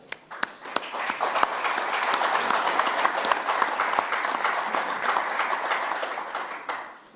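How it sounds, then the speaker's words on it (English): A press conference crowd applauds the fighters at a UFC pre-fight event, a sustained, fairly loud wash of many hands clapping with a few sharp individual claps standing out, fading near the end. "So another round of applause, please, for our fighters here."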